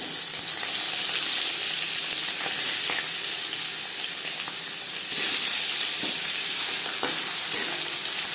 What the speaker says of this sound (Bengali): মাছ আমি হালকা করে ভেজে নেব,